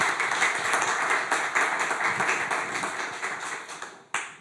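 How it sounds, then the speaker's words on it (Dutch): A lecture audience applauds the speakers Dick and Sven at a Dutch talk on great-power politics. The clapping is lively and dense, then thins toward the end before a sharp final knock. "Graag een applaus voor Dick en Sven"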